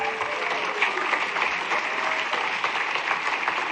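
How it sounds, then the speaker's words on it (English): A campaign rally crowd in Mason City, Iowa applauding Mr. Peterson: dense, continuous clapping from a large audience, even and sustained throughout, with a faint tonal trace early on and no clear talk. "Give him another round of applause"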